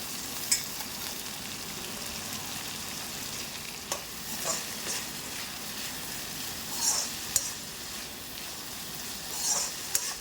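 Onions and dhekia fern greens fry in a pan, a steady close sizzle with occasional stirring scrapes and a few brief clinks, no talking.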